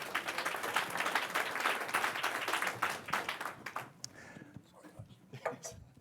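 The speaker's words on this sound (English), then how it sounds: "Please give them a round of applause." An audience at an energy efficiency summit applauds the leaders' panel, dense clapping that fades after about four seconds into scattered individual claps.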